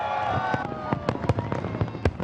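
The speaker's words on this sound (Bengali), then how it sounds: "বিশ্বের সবচেয়ে উঁচু ভবন বুর্জ খলিফায় আলোকসজ্জা ও আতশবাজি পুড়িয়ে নতুন বছরকে স্বাগত জানায় দুবাইবাসী" New Year fireworks at Burj Khalifa in Dubai burst in a rapid, irregular series of sharp booms and cracks, loud and close, over a faint continuous tonal hum from the celebration.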